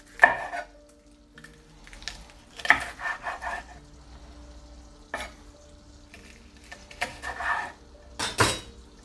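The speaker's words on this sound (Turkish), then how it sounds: "iki parmak boğum büyüklüğünde kesip hemen tavaya atıyorum" Peppers cut into small pieces and tossed into a pan in a village home kitchen, with sharp knife chops and clattering bursts of pan and utensil contact separated by quiet gaps, close and fairly loud.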